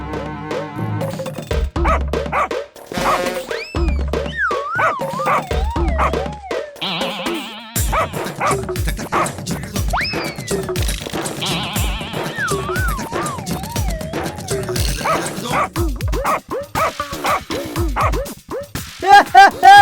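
Cartoon dog barking and yipping amid lively animated comedy dialogue and music, with several short barks scattered through busy voices and sound effects in a Hindi cartoon scene.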